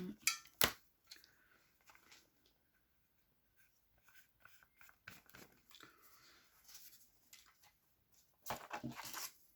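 Scissors snip paper scraps cut from old books for a mixed-media collage card, scattered quiet cuts and rustling paper with a louder sharp snip near the start and a denser burst of crisp cutting at the end, close and without speech.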